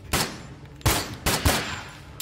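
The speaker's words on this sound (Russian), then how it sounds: "ну как бы стрельба из пистолета тут просто чтобы была" Pistol gunfire in the horror video game Twin Soul: four sharp shots in irregular succession, loud and close, with no talk over them.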